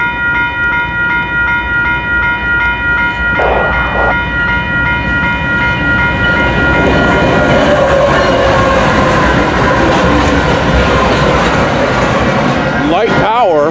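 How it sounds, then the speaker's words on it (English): Rail traffic at Leaside during a light-power move of four locomotives, a steady rumbling and tonal hum with sustained horn-like tones, rising in intensity later as the train passes close by; someone speaks briefly over it. "Yep, this is definitely a train."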